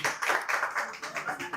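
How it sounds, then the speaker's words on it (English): An audience claps for a guest at a creator talk session, a short burst of rhythmic hand claps with faint talk underneath. "Please give a round of applause for Confidence."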